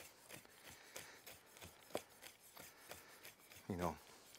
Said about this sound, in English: So, chopping the nuts.